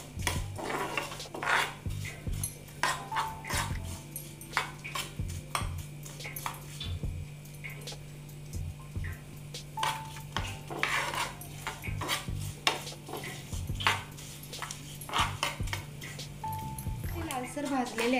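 Sesame seeds dry-roast in a pan while a spoon scrapes and clinks against the metal in irregular, fairly faint strokes, with a low steady hum underneath and someone speaking over it.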